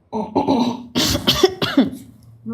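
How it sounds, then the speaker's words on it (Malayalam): A few harsh, raspy coughs in a row, close by and loud, with short pauses between bursts. "നല്ല ചുമയുണ്ട്"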